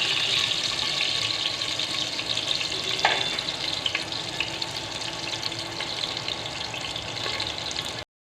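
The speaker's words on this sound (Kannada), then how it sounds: "ಈರುಳ್ಳಿ ಮತ್ತು ಚಕ್ಕೆ, ಲವಂಗ, ಏಲಕ್ಕಿನ ಸ್ವಲ್ಪ ಫ್ರೈ ಮಾಡ್ಕೊಳ್ಳೋಣ." Onion fries with cinnamon, cloves and cardamom in hot oil, giving a steady close sizzle that crackles on without a break until it cuts off abruptly. No one speaks.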